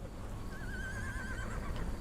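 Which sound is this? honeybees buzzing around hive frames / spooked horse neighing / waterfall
spooked horse neighing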